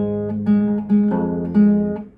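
Fingerpicked acoustic guitar plays the fourth line of a song, a few clear plucked chords ringing one after another and fading out at the end, close and solo, no talk.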